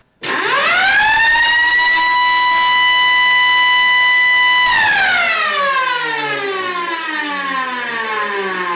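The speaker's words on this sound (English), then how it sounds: "that kind of reminds me of my Screecher siren." A Screecher siren winds up to a loud, sustained wail, holds steady, then winds down with falling pitch as it fades out, alone with no talk.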